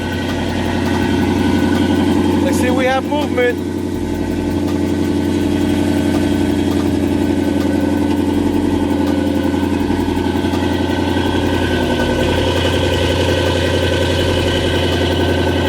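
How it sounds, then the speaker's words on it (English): A car engine idles evenly and up close for the whole stretch, a steady low hum with a brief voice speaking partway through. "The car is now on."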